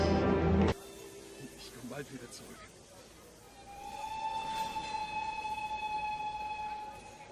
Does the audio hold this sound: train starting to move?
yes